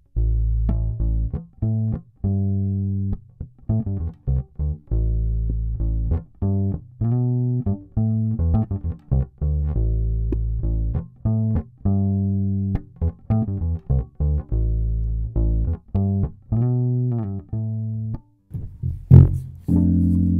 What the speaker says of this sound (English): This is the sound you get when you roll up the tone control on a P bass.